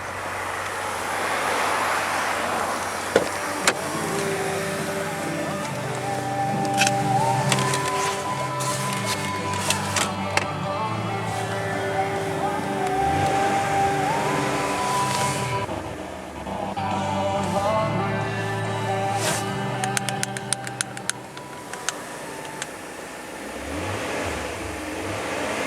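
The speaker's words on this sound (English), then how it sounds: "German V8 power." The 4.4 V8 of a 1999 BMW 540i runs close up for a long stretch, revving in repeated rising and falling pulls over a steady idle, punctuated by sharp clicks.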